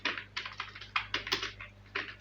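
Quick bursts of keystrokes on a computer keyboard, close and fairly soft, in an uneven typing rhythm over a faint steady hum, with no voices.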